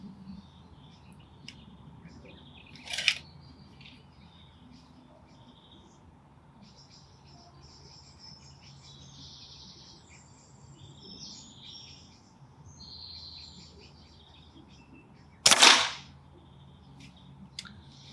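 Two sharp cracks from a Crosman Silver Fox gas ram air rifle, spaced far apart, over birdsong and insect buzz in an outdoor setting.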